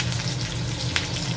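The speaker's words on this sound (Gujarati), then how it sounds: "અહીંયા મેં તેલ મૂક્યું છે કેમ કે વઘારમાં આ મરચાં આટલા નાખવાના રહી ગયા હતા" Chillies sizzle in hot oil for tempering, a steady, close frying hiss with a brief sharper crackle partway through.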